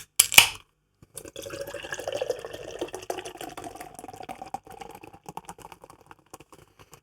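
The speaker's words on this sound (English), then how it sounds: "Let's get this beer poured." Blue Monkey Guerrilla nitro stout poured from a can into a glass: a sharp can-opening hiss, then a steady gushing pour that tapers into soft fizzing and scattered ticking bubbles.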